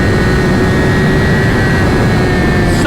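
A 2020 Yamaha R6 sport bike with a LeoVince Factory S exhaust roars at high, sustained revs. The engine note is very loud and steady with a strong harmonic whine, close to the listener.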